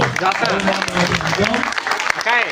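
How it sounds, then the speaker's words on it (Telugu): An audience claps steadily to encourage children after their skit performances, with a dense patter of applause running under a person talking throughout. "వాళ్ళకి ఎంకరేజ్మెంట్ అందరూ చప్పట్లు కొడుతూ"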